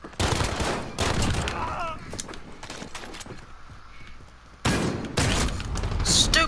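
Shotgun blasts in Call of Duty: Modern Warfare come as several loud, close booming shots, spaced irregularly with a quieter stretch in the middle, over other game noise and faint voices.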